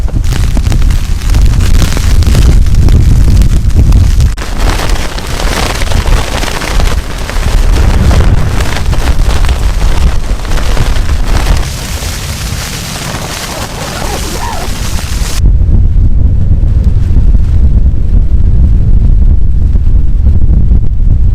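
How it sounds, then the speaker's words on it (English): Strong gusting wind roars steadily and loudly against the microphone outdoors, buffeting in heavy waves with deep rumbling low end, a backpacking tent site in rough weather. "Now the wind really picked up."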